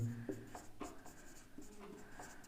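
Pen strokes on paper during a Hindi-medium Class 10 maths lesson on distance between points, close and quiet, with short scratchy bursts and brief pauses in an irregular rhythm.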